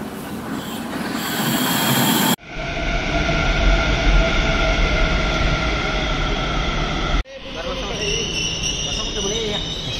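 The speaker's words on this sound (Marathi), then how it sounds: "आय गेस आपलीच मेट्रो आली." An elevated metro train arrives above ordinary railway lines, a loud, continuous rumble with squealing wheels that fills the whole span and is broken by two abrupt cuts.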